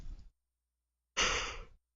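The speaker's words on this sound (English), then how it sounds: "Just invoked that yawn again." A man yawns during a live retro game session: a faint breath trails off, then after a silence comes a longer, louder breathy exhale close to the microphone.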